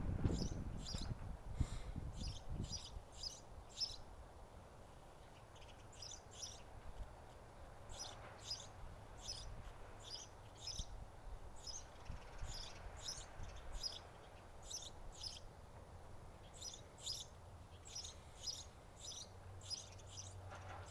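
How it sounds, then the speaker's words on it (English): A whole lot of birds chirp outdoors in spring, bursts of high, quick tweets repeating in clusters throughout, with several birds overlapping at moderate distance, plus a faint insect-like trill and occasional low rumble underneath. "In my case here, it's a whole lot of birds."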